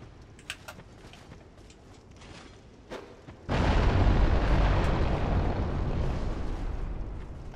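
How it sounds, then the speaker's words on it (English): A fire bomb bursts in Dark Souls II: after quiet ambience with a few faint thuds, a sudden deep explosive roar breaks out and keeps rumbling loudly to the end. "maybe we can try one of the usual fire bombs"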